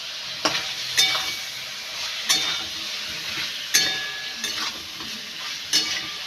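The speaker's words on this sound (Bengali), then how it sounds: "এইভাবে নাড়তে নাড়তে পেঁয়াজগুলো একেবারেই গলে যাবে।" Chopped onions sizzle steadily in a pan as a spoon stirs them, scraping and clinking against the metal at irregular intervals, close and clear with no talk.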